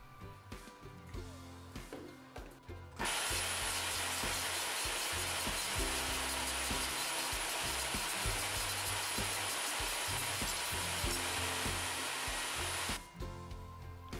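A Bosch GTS 10 XC table saw cuts wooden boards: after a few quiet seconds, a loud, steady high-pitched whine and rasp of the blade through wood holds for about ten seconds, then stops abruptly.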